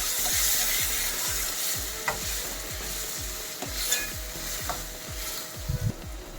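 A spoon repeatedly scraping through pulao in a pan as yogurt is stirred in, rhythmic strokes over a continuous sizzle, close and fairly loud, no speech.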